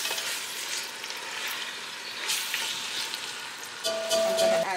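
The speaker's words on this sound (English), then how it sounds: "And what I'm doing is mixing the carrots and the peas." Carrots and peas being stirred as they fry in a pan, an even sizzle with scraping bursts from the spoon, swelling louder toward the end as a faint tone rings in.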